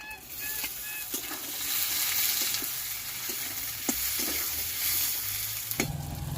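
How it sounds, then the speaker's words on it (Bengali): Bay leaf, green chilli and chopped tomato fry in hot oil with a constant sizzle close to the listener. A few sharp clinks and scrapes from stirring cut through the sizzle. "তেজপাতা আর কাঁচা লঙ্কা দিয়ে দিলাম আসতেছি ভালো করে ভেজে নেব এরপরে দিয়ে দিলাম টমেটো কুচি"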